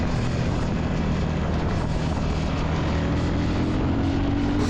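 A Royal Enfield Shotgun 650 motorcycle's 47-horsepower twin-cylinder engine drones steadily and loudly while riding, blended with rushing wind and no talk.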